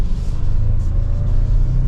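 A 2024 Toyota Tacoma Limited i-Force Max hybrid truck pulls away, its low cabin rumble swelling steadily from inside as it gathers speed.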